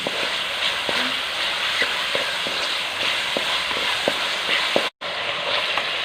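Boneless chicken and vegetables fry in a pan over medium heat with a steady, close sizzle and scattered light clicks and pops. The sizzle cuts out for a brief moment near the end.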